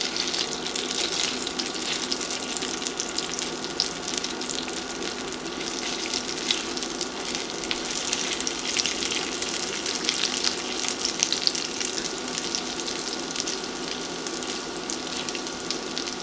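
Homemade gnocchi frying in butter in a pan, giving a steady, even sizzle that runs without a break and with no one talking.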